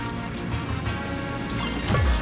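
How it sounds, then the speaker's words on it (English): Solar Rain attack effect from the video game Sea of Stars, a steady shimmering, rain-like patter of sparkles that swells into a deeper, louder sweep at the very end, with no talking. "what I like to do in place of that is pull Garl out and do a Solar Rain"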